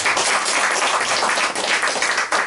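Church congregation applauding a student receiving an award at a Christmas service, a full, continuous patter of many hands clapping at close range for a couple of seconds.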